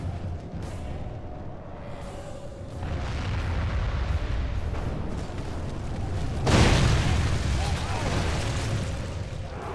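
Catapults firing during a battle in the Battles of the English video game: deep booming impacts and rumbling bursts amid a noisy battlefield din, with one heavier crash standing out, under talk.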